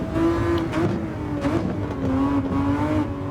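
Engine of a 2014 Ferrari FXX K racing car in Gran Turismo 7 on the Sardegna race track, a loud, steady high-revving drone with pitch rising and dipping slightly as it revs, sustained throughout.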